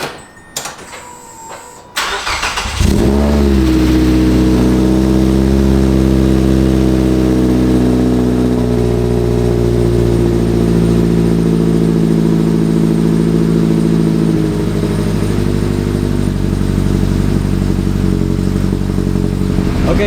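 A Mazda NC Miata fitted with a Jet's Integral Kobe N-Zero muffler starts up and settles into a loud, deep, steady exhaust drone with slight revving, heard close and alone.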